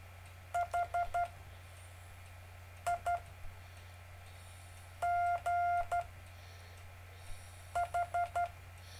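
Short Morse code tone groups spell out the word "high" at a steady practice pace, clean beeps of dots and dashes with short gaps between letters over a faint low hum, and no one talks.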